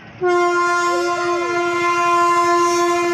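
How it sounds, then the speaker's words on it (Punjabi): A loud, sustained train horn blares right after a quiet start, holding a steady tone close by for several seconds. "ਕਿਹੜੇ ਵਾਲੀ ਟ੍ਰੇਨ ਆ ਇਹ"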